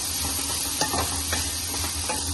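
Grated carrot sautéing in ghee in a pan for carrot halwa, giving a steady soft sizzle and hiss with a few scraping stirs of the spoon, and no voices.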